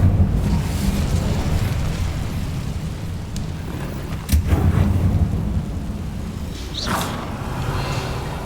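Incendio fire spell blast in the Hogwarts Legacy game, a rumbling explosive whoosh with deep booming bursts and a bright crackling flare near the end, sustained and loud.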